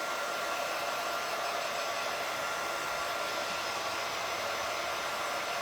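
A hair dryer blows steadily on a craft transfer, a constant loud rushing whir that holds unchanged throughout with no voices.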